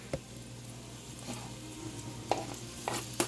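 Tomato pieces frying in a pan give a quiet, steady sizzle, with a few soft clicks and taps from stirring scattered through it.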